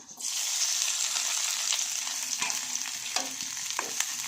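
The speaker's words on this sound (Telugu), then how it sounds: "మిరపకాయలు వేస్తున్నా ఇందులో" Chilies frying in hot oil for a chili egg curry, a steady loud sizzle with a few sharp stirring scrapes near the end.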